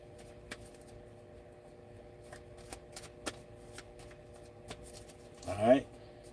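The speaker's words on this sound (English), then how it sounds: "I'm going to shuffle again." Tarot cards are shuffled by hand in a quiet room, soft scattered riffles and taps leading up to a brief louder flurry near the end.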